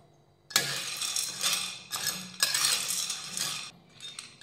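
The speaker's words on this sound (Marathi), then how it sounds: "आता ह्या तेलावर हे सांडगे भाजून घेऊयात" Sun-dried lentil dumplings (sandge) stirred and roasted in oil in a kadhai, giving loud scraping and clattering bursts of a utensil against the pan in several strokes, close up with no talk.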